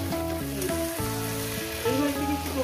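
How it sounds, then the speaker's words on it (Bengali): Eggplant and tomato with crushed dried chilli fry in a pan, a soft continuous sizzle that sits beneath loud melodic background music. "বেগুন টমেটো একসঙ্গে দিয়ে দিলাম"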